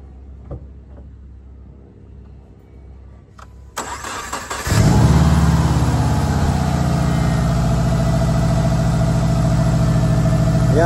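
A car engine is cranked from cold and catches, settling into a steady, loud idle that runs on alone, with no talking over it.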